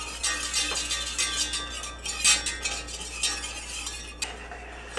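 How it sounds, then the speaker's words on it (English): A spoon works flour into melted butter in a pan for a macaroni and cheese roux, giving soft scraping and stirring strokes with light clinks and a gentle sizzle, close and steady, no talking. "Just kind of sprinkle a little in, get it stirred."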